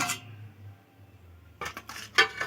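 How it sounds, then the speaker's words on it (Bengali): Cabbage and egg curry with fennel is poured from a pan into a serving dish; after a quiet stretch, a few close metallic clinks and scrapes of utensil against dish. "দেখুন, এবার আমি ঢেলে নিচ্ছি।"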